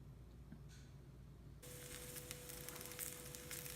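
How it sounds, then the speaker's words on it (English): Steady sizzling and crackling of onions and green and red peppers sautéing in olive oil in a frying pan, growing noticeably louder partway through, with a faint hum underneath and no talking. "I've got my onions in the frying pan with some olive oil. They're just sauteing right now."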